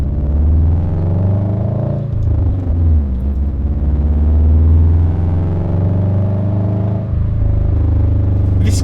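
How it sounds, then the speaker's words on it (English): A Subaru WRX STi fitted with an Invidia Q300 exhaust runs loud and close, a deep rumbling drone that rises and falls with revs, with short dips in power. "You can hear the exhaust."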